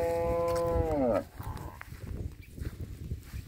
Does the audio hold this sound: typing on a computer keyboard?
no